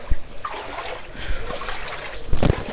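Floodwater trickling and splashing around a flooded vehicle in Santhipuram village, Mannar, Sri Lanka, after heavy rain: a continuous low watery trickle with a few sharper splashes near the end.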